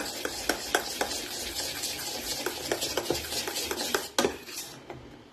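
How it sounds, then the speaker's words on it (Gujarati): A spoon stirring khaman batter with Eno mixed in, a quick run of light clinks and scrapes against the bowl, close and steady, with no talking. "હવે રીતના એને પાછું ચલાવી દઈશું સરખી રીતના."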